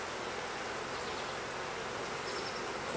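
A few honey bees flying around an open nuc during a hive inspection, giving a faint, steady airborne buzz with no voices.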